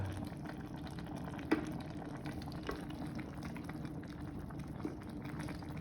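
A pot of vegetable soup in a home Isan-style kitchen boils steadily, with continuous soft bubbling and simmering hiss and a few small clinks, no talking.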